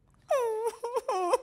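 A voice imitates a black hen sobbing during a storybook reading, a series of wavering, wailing whimpers rising and falling in short bursts, near and fairly faint, with no other talk.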